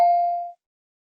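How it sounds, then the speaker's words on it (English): A single electronic doorbell chime at a village house gate, a clear tone ringing out once and fading over about half a second into silence. "he suddenly realized to ring the doorbell so he could enter the house"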